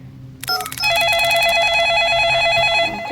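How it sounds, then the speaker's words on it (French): A telephone rings indoors, a steady electronic warbling ring starting abruptly after a short quiet moment and continuing loud and close without a break. "Mon téléphone sonne."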